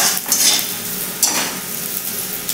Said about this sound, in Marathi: आता हे व्यवस्थित मिक्स करून घेऊया फोडणीमध्ये आपला बटाटा।